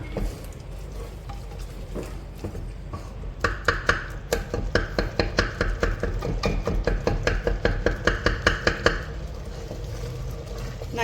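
A spoon stirs cooked green gram and papaya in a pot, a quick run of rhythmic knocks and scrapes against the vessel that speeds up in the middle, close and fairly loud, with a voice faintly present.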